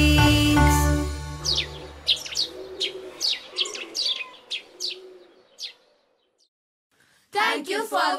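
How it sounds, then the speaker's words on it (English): Tiny brown sparrows chirp in a quick series of about a dozen bright, separate calls after a short burst of music, with a voice starting at the very end. "The sparrows, tiny brown sparrows."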